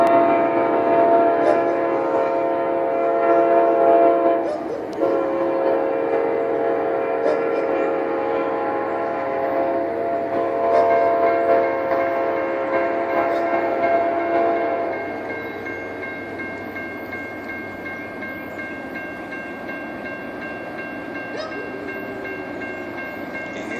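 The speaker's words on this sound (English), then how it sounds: "Norfolk Southern Train 238, Gaston, South Carolina." A Norfolk Southern freight train led by a pair of rebuilt C6M-9 locomotives rolls past at Gaston, South Carolina, a loud steady rumble with strong tonal horn blasts, the horn dropping away partway through as the roar continues.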